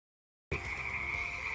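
A poison dart frog calls with a steady, sustained croaking trill that starts abruptly and holds at an even, fairly loud level, with no voices present.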